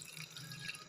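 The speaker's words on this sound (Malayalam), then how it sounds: "ആ കക്കയുടെ വെള്ളം കുറച്ച് ഒഴിച്ചു കൊടുക്കാവേ" Water from cleaned clams is poured into a cooking vessel in a home kitchen, giving a short, faint, steady trickle and splash.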